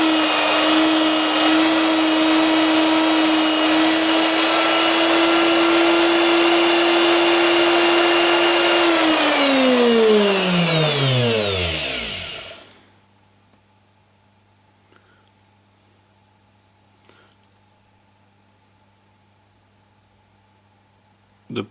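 A Neutrix tungsten electrode grinder whirs loudly and steadily, then its motor spins down with a falling pitch to silence, leaving a faint low hum and a few small clicks.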